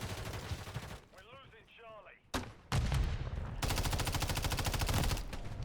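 Sniper gunshots and rapid gunfire in a game of Lethal Company, loud broadband cracks and sustained bursts with a sharp hit near the middle, busy combat noise throughout.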